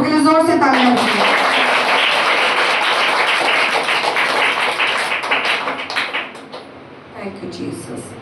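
A church congregation claps loudly in unison, producing a dense rush of close, strong applause. It begins behind a short spoken line and then fades gradually into scattered claps.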